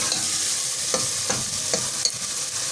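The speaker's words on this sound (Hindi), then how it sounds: "हम एक के दफ़ा सारी चीज़ें मिक्स कर लेते हैं और भून लेते हैं। इसको अच्छे से भुनेंगे।" Spices stirred and frying in a pan, with a steady hiss of sizzling broken by several distinct scraping strokes of the spoon, close and continuous.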